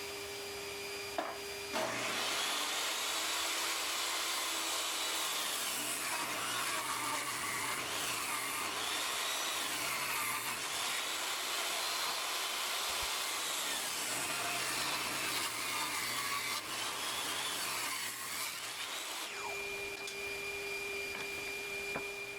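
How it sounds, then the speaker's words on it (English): A saw blade, set to the board's thickness, rips a 2x4 into two 2x2 strips, a loud, steady, continuous whine of cutting wood that runs for most of the stretch before stopping near the end. "I set my blade to its thickness and cut 2 2x2s"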